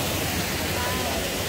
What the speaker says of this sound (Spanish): Me gusta el ruido del agua.